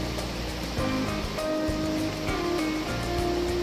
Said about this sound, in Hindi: कुछ किलोमीटर और ट्रैक के बाद अब थोड़ा दूर एक नदी की आवाज सुनाई दी।